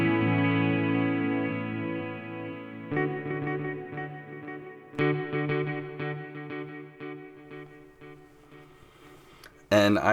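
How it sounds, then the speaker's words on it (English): An electric guitar played through a BOSS GT8 multi-effects processor set to a twin reverb combo amp sound with chorus and reverb: a sustained chord rings out, followed by several struck chords that shimmer and decay, then a sudden loud strum. "And I have it mixed with chorus and reverb"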